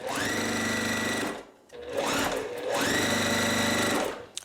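A sewing machine stitches small fabric pieces for a strawberry quilt block in two long, close runs of rapid mechanical whirring separated by a brief pause, with no speech over it.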